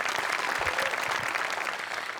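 A studio audience at a Marathi comedy show claps steadily for the whole stretch, a dense, even wash of applause with no talk over it.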